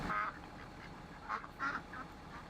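Ducks in Farming Simulator 2017 quacking in short nasal bursts, a scattered series of several calls over a faint outdoor background, moderately near and fairly quiet.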